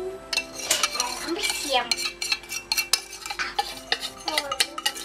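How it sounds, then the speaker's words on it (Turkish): Chocolate banana cake batter being mixed with a spatula in a bowl, with repeated clinks and scrapes against the bowl in an uneven rhythm and a short spoken remark. "Ve şöyle içine karıştırıyorum."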